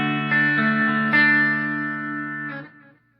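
Clean electric guitar through a Boss DS-1 distortion pedal with the distortion switched off, tone and level at midpoint: a few strummed chords ring out loud and sustained, then one last chord decays and is cut off, with no talking.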